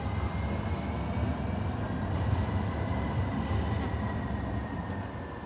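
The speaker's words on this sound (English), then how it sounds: "I'll wait for the tracks train to go by." A train rolls past a Salt Lake City street crossing, a steady broad rumble of wheels on rails with faint high squeals, loud and close throughout with no voices.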